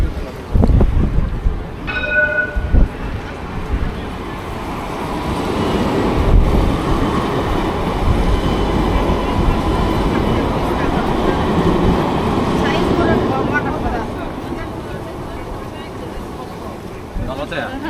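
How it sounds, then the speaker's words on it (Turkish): A train passing in Istanbul on a rainy day, with a steady loud rumble of wheels and carriages lasting many seconds, a brief horn-like tone near the start and people talking over it. "Tren geliyor."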